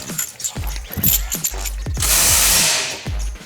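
A ratchet tightens a fitting on an Evo engine, making quick, close clicking strokes in short bursts, followed by a sustained hissing spray.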